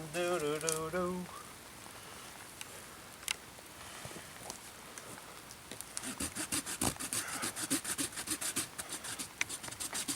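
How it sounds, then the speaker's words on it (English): Rain starts falling on a solo backpacking trip by a lake in the clouds, a brief hum of voice opening before scattered drops build into a dense, close pattering. "Here comes the rain"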